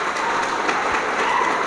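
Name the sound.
applause for the students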